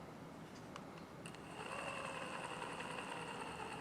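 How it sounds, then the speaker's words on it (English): A 6 Nm, 15 RPM Gaposa motorized blind motor runs with a quiet, steady whine and hum, a faint tone that rises slightly partway through and holds without talk. "which is the 6 Newton meter 15 RPM motor. Not quite as quiet as the other one, but super quiet, really"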